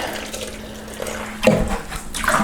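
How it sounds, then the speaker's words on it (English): Water pours into dry tile grout for mixing, a close splashing trickle that grows louder partway through and keeps going to the end. "I'm going to put in just enough water to get it wettened a bit."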